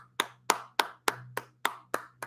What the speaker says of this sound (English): yes, I'm clapping for it.